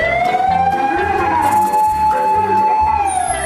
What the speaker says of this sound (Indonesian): ada truk pemadam kebakaran